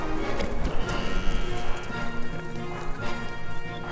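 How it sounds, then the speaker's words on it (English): Several horses gallop at full tilt in a dense, continuous clatter of hooves, loud and close, with a busy rhythmic drumming that runs throughout alongside some background noise and possible faint calls. "They gallop at full tilt, led by Kirk."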